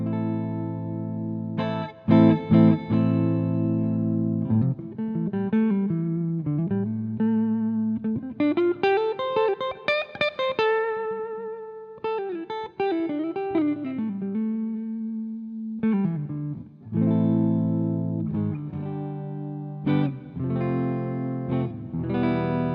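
A clean-toned electric guitar on the neck pickup is played with a green pick, sounding a melodic line of single notes and bends with some ringing chords, alone and close, with a slight chorus-like shimmer.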